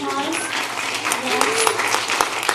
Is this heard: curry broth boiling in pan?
no